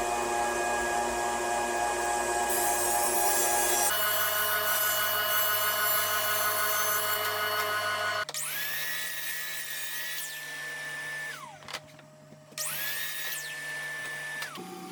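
A power saw cuts a wood panel for a DIY baby gate with a loud continuous whine that shifts pitch as the cut changes, then motor run-downs and restarts with steady tones and brief pauses.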